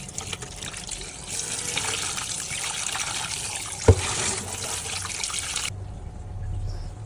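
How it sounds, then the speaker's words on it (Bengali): Running water rinses cut hilsa fish with salt, a steady trickling wash from a tap with one sharp knock partway through, then the flow cuts off near the end, leaving quieter handling sounds. "এখন লবণ দিয়ে ভালো করে ধুয়ে নিব"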